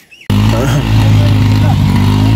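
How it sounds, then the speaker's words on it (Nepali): A loud modified motorcycle engine bursts in suddenly after a brief quiet moment and keeps running with a steady, close, heavy drone, accompanied by some faint talk. "modify bike"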